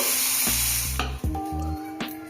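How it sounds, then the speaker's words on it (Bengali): Chicken pieces for chicken changezi fry in oil in a pan and get turned over, giving a loud, steady close sizzle broken by a few short stirring and scraping knocks. "এই উল্টো দিকটাও একটু ভাজা হবে"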